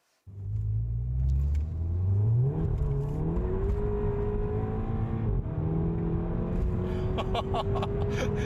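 Volkswagen Golf 7 GTI Performance engine starts and revs, a loud, close rumble rising and falling in pitch over several seconds, climbing to a higher whine near the end, with no talking.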